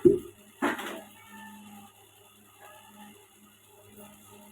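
Two sharp metallic clanks as a heavy wok is set down on a kitchen stove, followed by faint low kitchen rumble.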